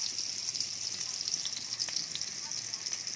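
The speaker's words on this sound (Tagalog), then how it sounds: "lagay natin yung ating bawang. Sobrang init. Sobrang init guys yung ating kawali." Garlic sizzling in a very hot wok, a dense, bright, continuous hiss heard up close for a few seconds without speech.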